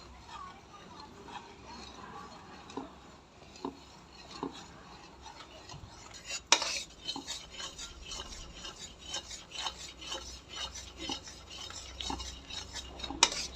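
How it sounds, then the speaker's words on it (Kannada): A spoon scrapes and stirs gram flour into hot sugar syrup in a pan for Mysore pak, close, irregular rubbing and scraping strokes that grow busier and louder halfway through, with faint talk in the background. "ಇವಾಗ ಕಡಲೆ ಹಿಟ್ಟು ಇದಕ್ಕೆ ಮಿಕ್ಸ್ ಮಾಡೋಣ. ಹಾಕ್ತಾ ಇದ್ರೆ ಕಲಿಸ್ತಾ ಇರ್ಬೇಕು ಕಂಟಿನ್ಯೂಸ್."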